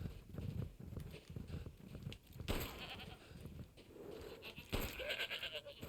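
Goat in the video game Resident Evil 8 bleats several times between heavy stomping and thudding hoof sounds, moderately faint under busy game noise, with no talk.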